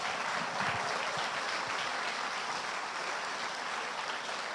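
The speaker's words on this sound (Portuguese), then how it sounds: "Aplauda ao Rei com alegria" A church congregation claps for several seconds, a dense, steady wash of applause from many hands filling the room without pause.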